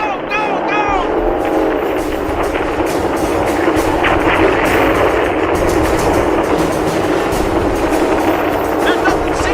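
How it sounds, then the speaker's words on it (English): Gunfire and bombing effects fill a radio drama battle scene, a dense continuous roar of explosions and rapid shots with sharp bursts throughout, loud and busy from start to finish, with voices shouting over the din. "The jets are bombing the object! We're moving out of the area! All the gunnery positions have opened fire!"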